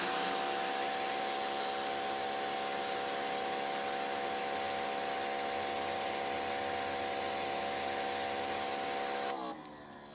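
A Greenworks Pro 3000 PSI electric pressure washer fitted with a turbo nozzle sprays water onto a surface, a loud continuous hissing spray with a steady motor hum that cuts off abruptly near the end.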